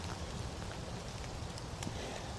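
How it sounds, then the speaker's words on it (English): Rain falls steadily beside a creek on a cool day, a dense continuous patter with a few louder drops standing out near the mic, no talking. "Rain started coming in a little harder."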